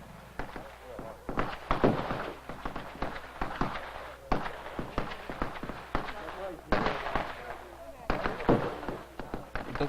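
Fireworks and firecrackers crack and pop in irregular bursts during a family gathering at the tombs for the Qingming festival in China, loud and close with some rapid clusters, mixed with crowd chatter and voices throughout.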